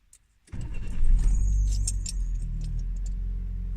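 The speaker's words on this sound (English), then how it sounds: "and start up the car." A car engine cranks and catches at about half a second, then settles into a steady, loud idle close by with some light metallic jingling over it, no talk, after a steering wheel replacement on a Nissan K11.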